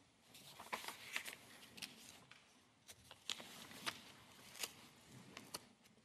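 Papers being shuffled and handled at a desk, soft rustling and crisp flicks in irregular bursts, quiet and close with no talking.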